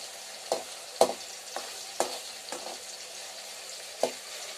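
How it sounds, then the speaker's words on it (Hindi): Onions frying in a pan in a village kitchen, a steady quiet sizzle under several sharp spatula scrapes and taps spaced about a second apart, with no talking. "मैंने अभी इसमें प्याज डाल दिए। ठीक है, अभी इनको मैं लाल करूंगा, मतलब भूनूंगा इनको मैं।"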